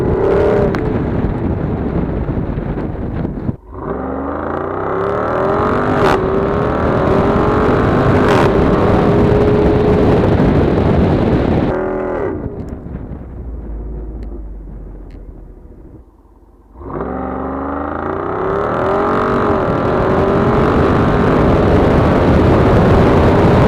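A Jeep Wrangler 392 with a V8 engine, top off and exhaust button engaged, accelerates hard on a dirt road, its loud exhaust roar rising in repeated surges, dropping briefly near four and seventeen seconds before climbing again.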